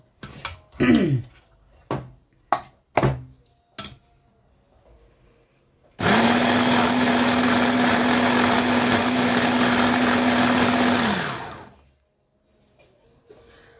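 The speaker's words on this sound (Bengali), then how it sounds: "এখন আমি ব্লেন্ড এর মধ্যে শুকনো মরিচের পেস্ট দিয়ে দিলাম" An electric blender grinds dried chili paste for Elenga shutki vorta, a loud steady whir running about five seconds before winding down, after a few sharp clinks and knocks of the jar being set up.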